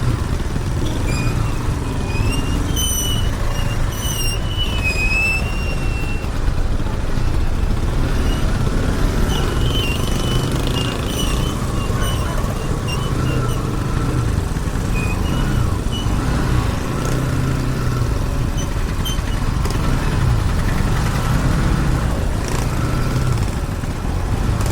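A road jammed at night with cars and trucks, a constant heavy engine drone with passing vehicles and scattered horn toots, heard close from a motorbike with no talk.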